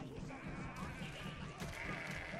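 Sheep bleating in the video game Overlord: Raising Hell, layered with game music and effects; a dense, steady mix with the bleats folded into the busy soundtrack.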